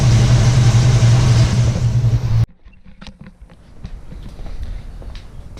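A 289 V8 engine runs loud and close for about two seconds with a steady low rumble, then cuts off abruptly, leaving quieter background noise and faint knocks.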